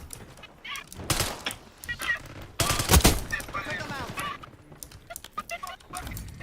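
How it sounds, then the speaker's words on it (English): PP Bison submachine gun fire in a video game comes in several short, loud bursts mixed with game sounds, while a person talks over and between the shots. "the PP Bison. Yeah, that's the gun I'm using."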